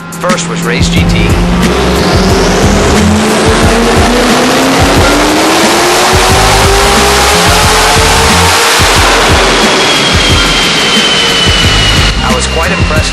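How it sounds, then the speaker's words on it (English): A Hennessey Race GT with a 5.4-liter engine roars on a chassis dyno, loud and close, its engine note climbing through a long sustained pull on 93 octane fuel, a steady high-powered drone that fades near the end. "Each car was then placed on the dyno to see how much power it could make on 93 octane."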